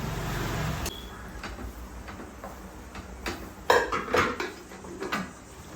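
Marinated chicken for a Thalassery biryani goes into a pressure cooker, heard as a series of clinks and scrapes of a metal spoon against the pot, with sharper knocks clustered toward the end.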